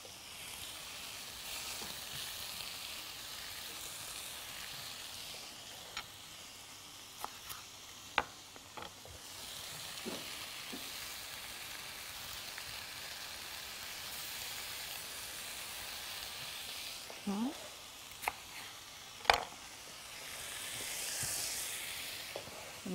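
Vegetables sizzle steadily in a grill pan while kebab is cooked, a soft continuous hiss with scattered sharp crackles and pops throughout, no talking.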